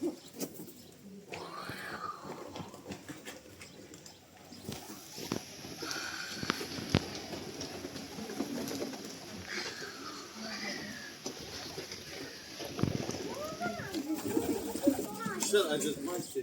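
Pigeons coo softly in low, rolling calls amid rustling and shuffling in a coop, with people talking quietly in the background throughout.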